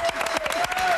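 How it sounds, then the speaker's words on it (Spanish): Audience applause at a live show, a short burst of dense clapping heard at moderate loudness. "un fuerte aplauso para los Pelos de"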